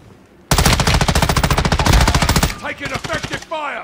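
Automatic weapons fire in the DMZ video game, a loud close burst of rapid evenly spaced shots lasting about two seconds, then tapering into scattered noise with a voice shouting.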